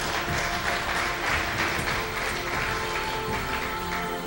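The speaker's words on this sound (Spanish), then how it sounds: "¿Cuántos aplauden el nombre del Eterno?" A church congregation claps together, a loud continuous clapping with some rhythmic accents, mixed with a steady background hum.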